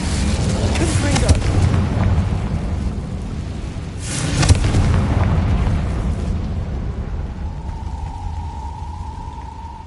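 A Confringo explosive spell is cast in the Hogwarts Legacy video game. A loud, rumbling blast swells midway over dense continuous game noise, then fades out under a faint steady tone.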